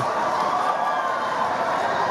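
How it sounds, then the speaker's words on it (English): A football stadium crowd in the Philippines Football League, Manila Digger FC against Kaya FC in Iloilo, roars steadily at a scoring chance, a dense sustained wash of cheering at even loudness throughout. "Crowd on its feet."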